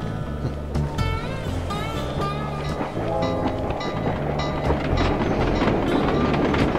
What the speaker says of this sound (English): So if I hitch a ride on this train,